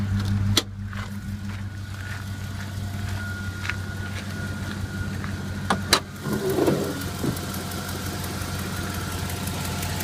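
The 6.0L engine of a 2007 GMC Sierra 4x4 idles steadily with the hood open, a close, even low rumble with a couple of faint clicks and no talk.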